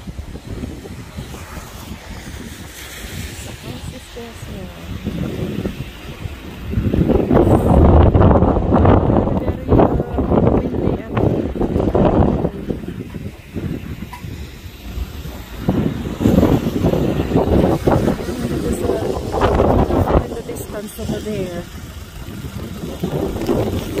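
Strong wind buffets the microphone in loud rushing gusts on a rainy country road in North Wales, with low rumbling surges that rise and fall throughout.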